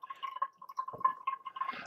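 Ninja Pods & Grounds single-serve coffee maker on a rich brew setting, water dripping slowly through the grounds; a steady close-up trickle of small drips and gurgles with a faint underlying hum.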